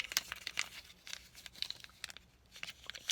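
Paper dollar bills being folded and handled up close, with crisp crinkles and rustles coming in quick irregular bursts at a low level, with no talk.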